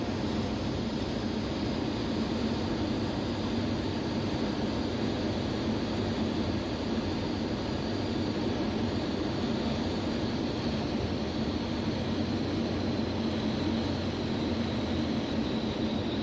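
Steady broadband engine and wind roar inside the cockpit of a Zenith light sport aircraft on landing approach with flaps fully down, loud and continuous with no talk.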